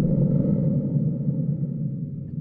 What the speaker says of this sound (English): let's move on to my third favorite, and that is the Thunder drum.